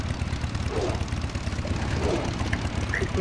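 Goblin triple-engine turbo flying mount from World of Warcraft, a steady propeller-like engine drone that runs continuously and fairly loud for the whole stretch, with no pauses.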